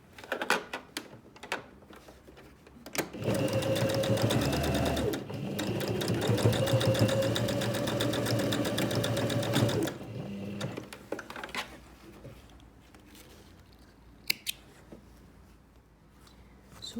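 Sewing machine stitching the corners of a zipped make-up pouch, a steady loud mechanical run of about seven seconds in the middle, with shorter handling noises and clicks before and after.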